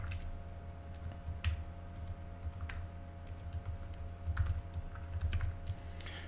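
Keys on a computer keyboard are typed in short quick bursts with small pauses between them. The clicking is close and clear over a low steady hum.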